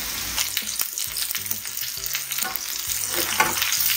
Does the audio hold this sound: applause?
no